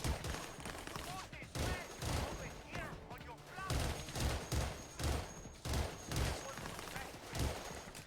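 Rapid pistol shots from a video game pop in a steady, fast rhythm, loud and close, one crack after another across the whole stretch while a voice talks underneath.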